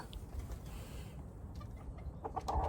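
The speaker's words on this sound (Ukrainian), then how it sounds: "такі незламні кури Києва" Chickens in Kyiv cluck softly and intermittently at a distance during morning feeding, with a few short calls near the end over faint outdoor background noise.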